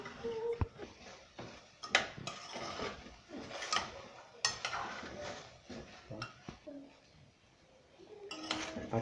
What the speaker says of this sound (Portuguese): Vai fritando ele, vai mexendo para ele não queimar.